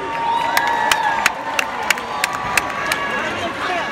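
Crowd at a comedy set during a radio station's anniversary concert cheers and claps loudly, a steady roar with sharp whoops and shouts rising now and then over the continuous applause.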